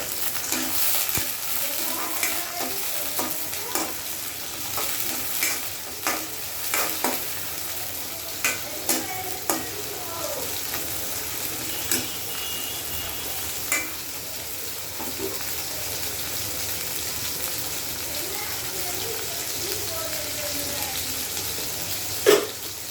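Onions lightly frying in oil in a pan, the start of a ridge gourd and tengra fish curry, a faint continuous sizzle broken by occasional clicks and knocks of a spatula against the pan.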